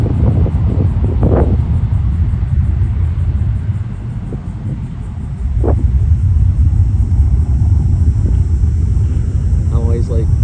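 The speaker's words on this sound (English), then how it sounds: "Ooh, listen to that jet engines." An American Airlines jet thunders down the runway on takeoff from Myrtle Beach, a heavy, continuous low roar with steady wind buffeting, and a passenger speaks briefly over it.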